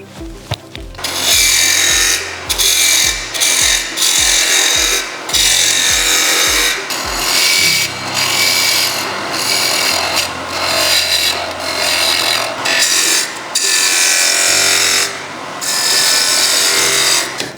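A wood lathe spins a wooden carving mallet while a tool cuts into it to reduce its diameter, giving a loud, continuous scraping hiss with repeated rhythmic knocks early on and no speech.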